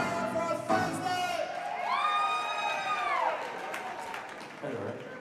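A crowd at a Thursday-night live show cheering, whooping and clapping in a sustained roar, with a loud shout or sung note rising over the noise partway through.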